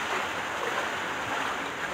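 Typhoon Kristine floodwater rushes and churns in a continuous wash of broadband noise with wind on the microphone, faint and steady, with no speech.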